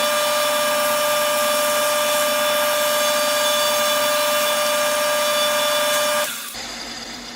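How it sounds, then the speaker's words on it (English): A metal lathe with a cutoff tool turns down a rear bushing from a 2009 Polaris Ranger, giving a loud, steady whining cut that stops abruptly near the end, leaving a lower hum. "I think I'm just going to turn it down with this cutoff tool because it seems to cut easy."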